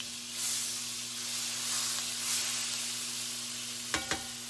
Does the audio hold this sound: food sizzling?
yes